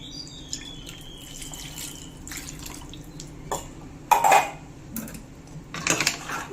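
Water is poured into a cooking pan with light splashing and dripping, alongside clinks of metal utensils against cookware.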